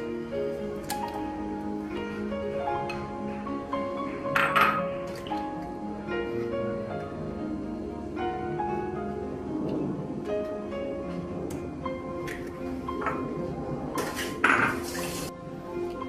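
Cookie dough being mixed with a whole egg and an extra yolk in a bowl: continuous close squishing and scraping with occasional sharper clinks of utensil against the bowl.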